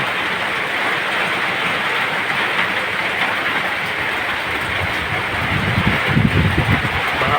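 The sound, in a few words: heavy rain and strengthening wind during low pressure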